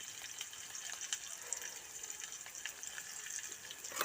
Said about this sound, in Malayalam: അതിന് ശേഷം നമുക്ക് ഉള്ളി ഇട്ട് കൊടുക്കാം ചെറിയ ഉള്ളി ഇട്ട് കൊടുത്തു